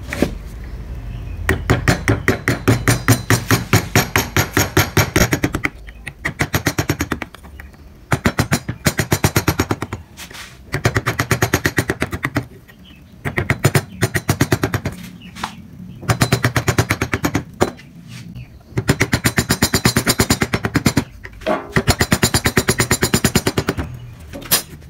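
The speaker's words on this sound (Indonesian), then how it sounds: "Kemudian kita bentuk ornamen di bagian tengah ini menggunakan pahat coret ya teman-teman" A wood carving chisel is struck by a mallet in rapid, sharp bursts of taps, carving an ornament into wood, each flurry lasting a second or two before short pauses.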